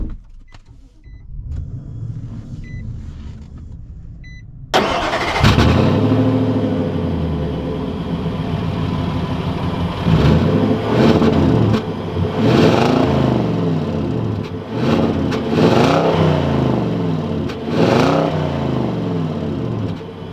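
A 2021 Nissan Titan Pro-4X pickup truck accelerating along a road, its engine rising in repeated revving surges after a quiet start, loud and steady throughout with no talk.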